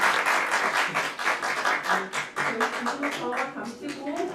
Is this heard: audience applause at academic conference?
yes